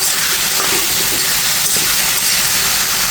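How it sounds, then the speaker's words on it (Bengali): Fish frying in oil in a pan with onion and chilli, a loud, steady, dense hiss and sizzle that continues without a break and with no talking over it. "মাছটা কিন্তু খুব সুন্দর করে ভেজে নিয়েছি।"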